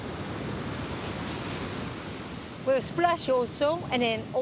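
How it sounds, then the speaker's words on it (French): Wind and ocean surf on the north shore of Oahu, Hawaii, a steady broad roar of wind and breaking waves, with a voice speaking over it during the second half. "Du vent, des vagues,"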